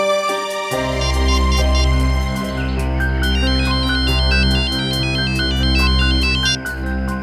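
A telephone rings loudly with an electronic melodic ringtone in a Hindi CID detective episode. It plays continuously and alone for several seconds.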